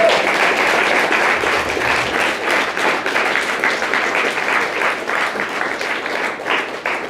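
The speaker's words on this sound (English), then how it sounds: "Let's give Jason a round of applause." An audience at a trading seminar applauds a speaker on stage, with steady, dense clapping that stays loud for several seconds.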